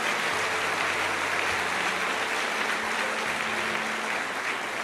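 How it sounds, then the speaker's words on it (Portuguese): Congregation applauding inside a church, a steady dense wash of clapping that holds at an even level throughout, with no talking over it. "Pode aplaudir o Senhor."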